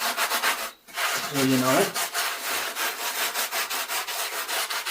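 Rubbing and smoothing off a freshly worked wall surface inside a cottage, a steady scraping, abrasive rhythm of repeated strokes, close and fairly loud, with a brief pause and a short spoken remark partway through.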